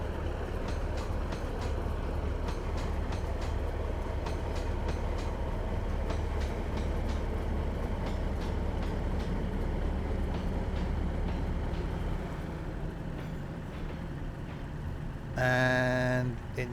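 A Class 156 diesel multiple unit runs in Train Sim Classic on the Glasgow to Mallaig line: a steady engine drone with regular clicking rail joints, then a bright tonal sound near the end. Nobody speaks.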